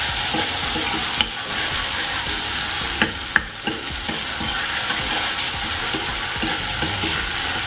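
Methi, dal, chili and garlic paste sauté in a pan with a continuous, close, hissing sizzle, broken by a few sharp clicks of a spoon against the pan.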